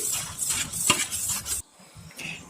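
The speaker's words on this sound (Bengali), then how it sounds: "ব্যাটারটা প্লেটে নেওয়ার আগে আমি ভালো মতো আবারও গুলে নিচ্ছি।" Flour batter for homemade papad is whisked again in a bowl before being spread on a plate, giving close, repeated scraping and clinking strokes for about a second and a half, followed by a quieter pause and a couple of softer stirs.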